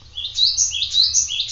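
A caged canary, a young bird about to be trained, chirps in quick repeated bright twittering phrases, close and clear with a faint low hum beneath.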